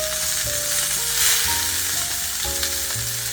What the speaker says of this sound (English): We're going to sear this just for a few more minutes, and then we're going to flip it over.